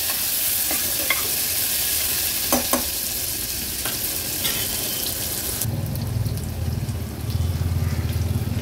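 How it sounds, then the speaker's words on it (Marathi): Chopped onion sautés in oil with mustard seeds over a low flame, a constant near hiss with occasional scrapes and taps of a spoon, then shifting to a lower, bubbling fry tone for the last few seconds. "कांदा आता शिजवून घ्यायचे आपल्याला। गॅसची फ्लेम लोवर ठेवते।"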